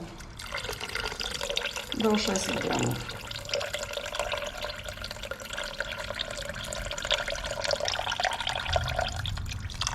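Water runs and splashes steadily into a container for several seconds while someone speaks over it.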